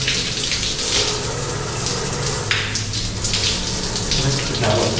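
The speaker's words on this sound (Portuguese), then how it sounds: "a água tá quentinha da caixa d'água ainda" Tap water runs steadily at close range, a continuous broadband splashing that holds level throughout, with kitchen or sink handling noises mixed in.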